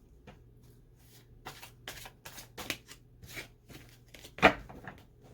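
Oracle cards, a fairy oracle deck, are shuffled by hand in a series of soft papery riffles and slaps, rising in bursts with a sharper snap near the end, fairly close and quiet with no talking.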